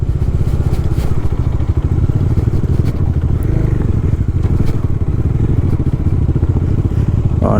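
Motorcycle climbing a rough hill road in first gear, its engine thrumming loudly and steadily close by, with scattered clatter and scraping from the uneven surface and no talk.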